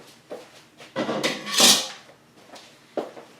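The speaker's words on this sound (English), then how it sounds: "So I'm going to put these in the oven" An oven door clunks open, a dish of quiche slides in with a metallic scrape and rattle, and the door bumps shut, a few close, moderately loud handling knocks in a kitchen.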